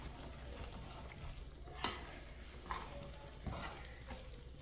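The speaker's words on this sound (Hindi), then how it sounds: "2-3 मिनट के लिए मैंने भून लिया।" Moong dal being stirred and fried in a pan for halwa, a low steady sizzle with a few soft scraping strokes of the spoon at intervals, close and fairly quiet.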